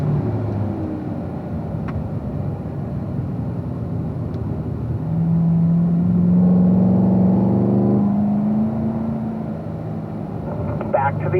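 A race car's engine drones on track, its pitch sweeping steadily upward under power before cutting sharply at a gear change and climbing again, with a voice talking over it throughout.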